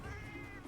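A cat meows in a video game, one drawn-out, clear meow lasting under a second with a steady background hum beneath it.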